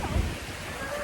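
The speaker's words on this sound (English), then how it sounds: "you can hear the thunder" Thunderstorm over a garden: low rumble of thunder at the start and steady rain hiss throughout, brief and fairly faint.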